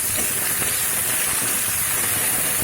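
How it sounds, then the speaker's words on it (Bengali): Tomato, green cardamom and cinnamon go into hot oil with a loud, steady sizzle and hiss. The sound holds unbroken for the whole clip, close by, with no talking. "এবার দিয়ে দেব টমেটো আর একটু ছোটো এলাচ আর একটু দালচিনি"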